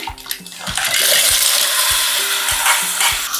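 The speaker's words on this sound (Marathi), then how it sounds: "आता आपण त्याच्यात उपळ्या टाकून घेऊया" Clams dropped into hot frying masala in a home kitchen, giving a loud steady sizzle with stirring and a few sharp clinks and scrapes of a spoon against the pan.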